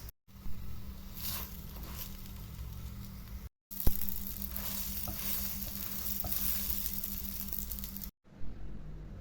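Hawawshi flatbread stuffed with liver and gizzards sizzles as it toasts in oil in a pan, a steady close frying hiss with brief cut-offs and a low hum beneath.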